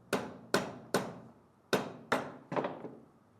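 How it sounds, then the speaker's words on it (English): A rubber mallet taps a valve plug assembly into a liquid dump valve body six times, giving dull, close thuds in an uneven rhythm, with a quick double hit at the end. "While bracing one side, use a rubber mallet to gently tap it into place evenly"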